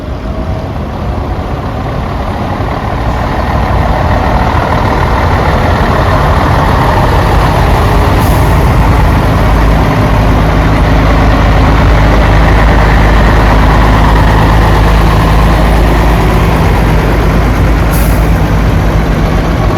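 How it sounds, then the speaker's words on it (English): A Bedford HA van idling at a steam rally, a loud, continuous low engine drone that holds steady for about twenty seconds with no voices. "The little HA van there, the Bedford HA."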